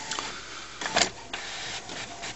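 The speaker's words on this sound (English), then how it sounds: "There you go, look, printing perfectly." An HP PSC 1510 inkjet printer prints a page, with its print head and feed mechanism giving a few short mechanical whirs and clicks at close range.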